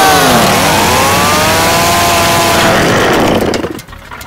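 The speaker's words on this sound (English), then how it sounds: "A chainsaw." A chainsaw in a video game roars loudly and close, its engine pitch sweeping up and down in revving waves before dropping away abruptly at the end.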